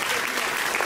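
A crowd of guests at a civil wedding claps loudly in a short, dense burst, continuous and close.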